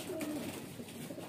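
A young dark red highflyer pigeon gives a few soft, faint coos near the start, then the background stays quiet with no talking.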